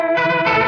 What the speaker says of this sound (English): Really nice Leslie sound